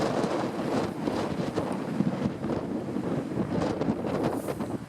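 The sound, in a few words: strong wind blowing at the coast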